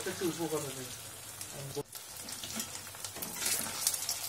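Paneer fries in a pan with a steady, close sizzle and crackle, broken by a short scrape partway through, while a voice talks over the first part.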